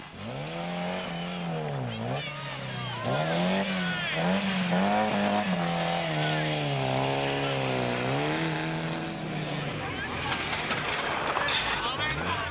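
Rally cars race past, a VW Golf 16-valve among them, with engines roaring and revving in rising and falling sweeps, loud and near for most of the stretch before fading into road and crowd noise.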